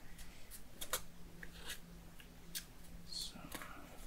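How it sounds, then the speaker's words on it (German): Paper cut with scissors while making a laser-cut model house: a handful of quiet, crisp snips spaced irregularly over a few seconds, faint against a low background hum. "Und jetzt nach oben den Bogen mit der Schere ausschneiden."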